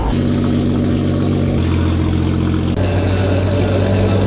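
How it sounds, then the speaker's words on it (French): Loud race car engines at the 24 Hours of Spa, including a Dodge Charger, drone steadily and close, the pitch stepping up in stages as they rev, with no talking. "J'entends les moteurs."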